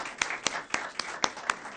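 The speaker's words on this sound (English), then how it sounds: "So let's give them a round of applause." At a track and field hall of fame induction ceremony, a few hands clap in a slow, steady rhythm, about six crisp claps spaced evenly, fairly faint in a quiet hall.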